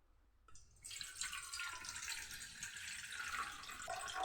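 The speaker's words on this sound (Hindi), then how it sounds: "इसमें मैं ले रहा हूँ 1 कप पानी" Water poured steadily from a cup into a pot for making jaggery tea, a bright continuous splashing stream that starts abruptly and runs to the end, close and moderately loud.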